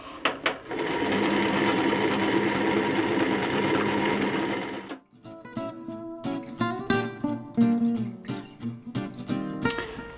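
A Juki LU-562/563 industrial sewing machine's bobbin winder whirs in a steady, loud, continuous run for about five seconds, then cuts off abruptly, leaving quieter, intermittent clicks and tonal sounds.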